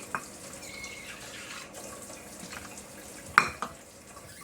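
Tap water runs into a bowl for cornbread mix, a soft steady stream with a few faint clinks and one brief sharper splash near the end.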